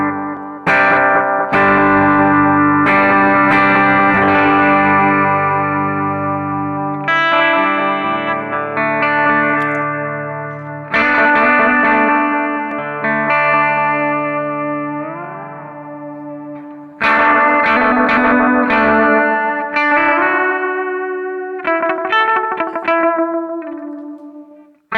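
An electric guitar played through a Keeley Caverns V2 delay/reverb pedal rings out in loud, clean, shimmering phrases, with notes trailing off into long echoing tails and a chorus-like wash, no talking.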